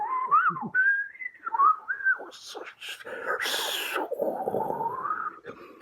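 A voice imitates shortwave radio whistling, with wavering, gliding tones and bursts of hissy static, loud and close.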